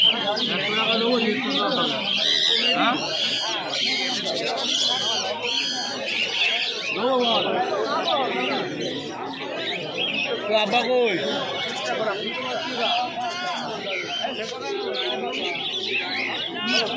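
Budgerigars kept for sale in a busy bird market chirp and chatter in a dense, constant twittering, mixed with nearby people talking over the birds.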